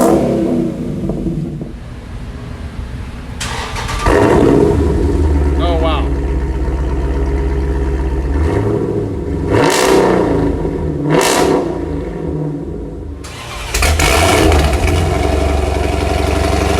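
A Dodge Charger or Challenger fitted with a MagnaFlow XMod exhaust idles and revs in several loud bursts, a deep throaty rumble rising and falling close by, with someone talking over parts of it.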